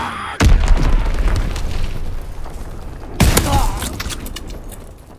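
Two heavy in-game bomb blasts from an Azon bomb mission, the first near the start and the second about three seconds later, each a loud booming burst that rolls off into a long rumbling decay.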